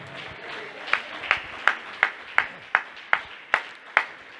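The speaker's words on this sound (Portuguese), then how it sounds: "Você pode glorificar o Senhor com as palmas?" A church congregation claps along in a steady rhythm, about nine sharp, evenly spaced claps over a soft background murmur, moderately close.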